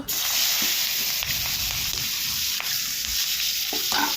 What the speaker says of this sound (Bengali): পেঁয়াজ কাঁচা লঙ্কা তেজপাতা সব কিছু একসাথে তেলে দেওয়া হয়ে গেল